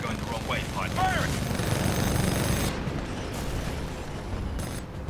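Robot titans in the video game Titanfall 2 fire their weapons in a dense, continuous rattle of gunfire that cuts off abruptly near the end, with a voice heard briefly at the start.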